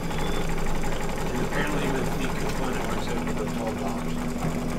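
A sewing machine stitching a zombie applique runs in a fast, steady mechanical whir and clatter, loud and continuous from start to finish, with voices talking underneath.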